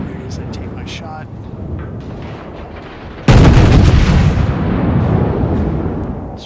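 A North Carolina battleship's main guns fire in a ranked World of Warships match, one sudden deep booming salvo that rolls on and decays over several seconds, following quieter game sounds and someone talking.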